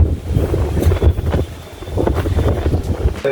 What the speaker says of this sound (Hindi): मैं छत पर वॉक करने आई हूँ रात को और इतनी तेज़ अंधेरी चल रही है